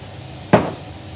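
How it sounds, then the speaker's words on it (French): A sudden sizzle as food hits a hot pan while cooking, a single loud burst near the microphone that quickly fades into a low crackle. "Le joli bruit de la cuisson"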